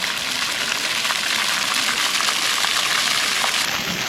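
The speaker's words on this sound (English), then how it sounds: "They have a variety of these water features that are situated along the footpath as you're walking." A water-feature fountain gushes beside a footpath in Blaxland Park, Sydney: a loud, steady broadband rush of splashing water that holds unbroken throughout, with no voices over it.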